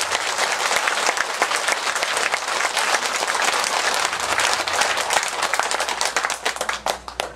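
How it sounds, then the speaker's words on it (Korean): Enthusiastic applause from a congregation of lay Buddhist women at a temple after a prayer period, loud, dense clapping sustained for several seconds before thinning into scattered claps at the end. "우리 스스로를 위해 가지고 큰 박수를 한번 쳐보세요."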